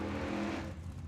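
A Ford Maverick drag racing car launches at Tucson Dragway, a short, loud burst of engine roar that fades slightly as the car pulls away.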